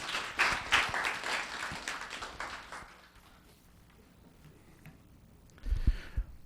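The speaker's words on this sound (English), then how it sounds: "A round of applause for Chloe Yang." Brief applause for Chloe Yang at a town council meeting, a few seconds of moderate clapping from the room that fades to quiet room tone, then a short thump.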